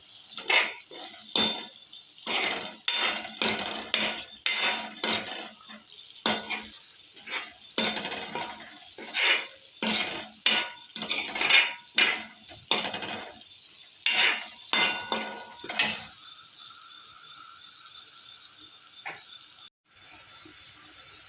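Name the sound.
mixing pav bhaji with coriander powder in a pan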